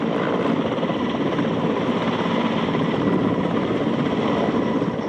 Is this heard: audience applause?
no